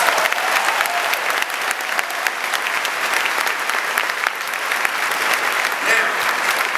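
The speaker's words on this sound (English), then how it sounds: "Let's have a round of applause." Sustained applause from a large graduation ceremony audience for the class of 2017, a dense steady wash of many hands clapping that holds at an even, fairly loud level throughout with no speech over it.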